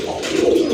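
A pair of pigeons gives a single short, soft coo close by, brief and alone with no voices.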